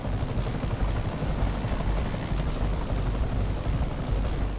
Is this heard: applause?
no